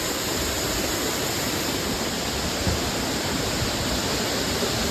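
Jungle waterfall pouring in a steady, loud, broadband rush of falling water, close and continuous with no voices.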